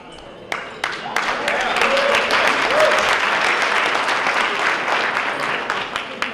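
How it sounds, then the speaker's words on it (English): A university ceremony crowd bursts into sustained applause and cheering after a few opening claps, dense clapping mixed with whoops and hollers that continues steadily to the end. "let's cheer, let's hoot and holler"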